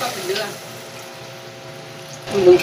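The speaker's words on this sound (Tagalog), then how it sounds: "Lagyan natin ng mineral water" Mineral water splashes and pours into a pot of vegetables for pakbet, a steady close trickle with a louder gush near the end.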